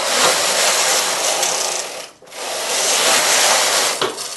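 A knitting machine carriage sweeps across the bed knitting a slip row with three strands together at high tension, a loud rattling, scraping mechanical pass that briefly stops and then runs again.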